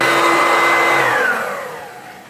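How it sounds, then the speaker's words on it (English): A Dirt Devil vacuum cleaner roars loudly and close while it cleans dust out of a bathroom exhaust fan, its pitch sliding down as the motor winds off, with no talking. "I'm just going to get up in there and vacuum out that fan"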